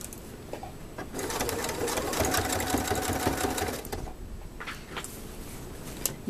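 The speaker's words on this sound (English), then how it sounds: "Roll that in and back stitch." A sewing machine runs in one steady, close burst of rapid stitching, back stitching a seam on a tote bag, then slows to a few lighter clicks.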